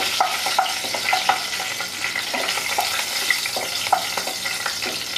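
Two dried red chillies and a bay leaf fry in hot oil while being stirred, a steady sizzle with repeated scraping clicks from the spoon close by.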